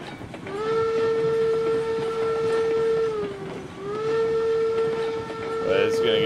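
A steam train whistle in RailRoads Online blows one long sustained chordal blast, dipping briefly in pitch midway, close and loud over the rumble and clatter of the rolling train.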